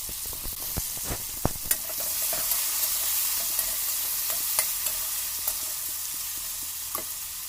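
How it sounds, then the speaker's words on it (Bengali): Potato pieces with salt and turmeric fry in hot oil, giving a steady close sizzle broken by scattered sharp pops and stirring clicks, with no voices. "এখন আমি আলুটাকেও নুন হলুদ দিয়ে ভেজে নিচ্ছি।"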